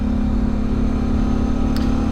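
A Suzuki V-Strom 650 motorcycle cruising on a North Georgia highway, its steady engine drone heard loud and close together with constant rushing wind, no voices.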